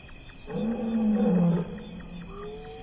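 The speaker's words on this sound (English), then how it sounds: "Distant roars echo through the cool night air. Their male is calling, the sound carrying almost 5 miles across the valley" A male lion roars at night across an African valley, a single deep, drawn-out call heard from a distance in the cool, quiet air.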